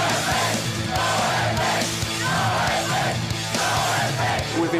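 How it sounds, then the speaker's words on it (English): A large crowd of around a hundred kids chants and screams in front of a hotel door before a NOFX show, with steady rhythmic yelling and whooping, loud and continuous throughout. "you could hear these kids chanting and screaming"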